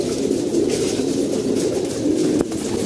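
A flock of pigeons gathered close by keeps up a dense, rolling chorus of low coos, steady throughout with a faint brief click near the end.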